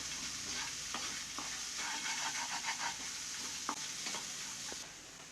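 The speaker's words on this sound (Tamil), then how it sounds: "இப்போ எல்லாம் சேர்த்து நல்லா கிளறி விட்டுக்குங்க" Red aval vegetable upma being stirred in a pan, a soft steady sizzle running throughout with scattered scraping clicks of the spoon against the pan, close and moderately quiet, no talking.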